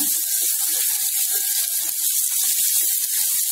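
Steady crackling sizzle of chopped onion frying in a hot pan, continuous and fairly close, with scattered pops and no talking.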